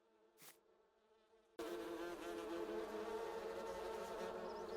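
Honeybees buzz at beehives in the farming video game Farming Simulator 19: a faint hum and a brief sound, then a sudden loud, dense, steady buzzing swarm that continues to the end.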